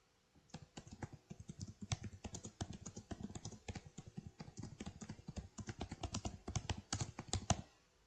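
Fingers type a prompt on a computer keyboard in a brisk, steady run of close key clicks with brief pauses, quiet and without talking.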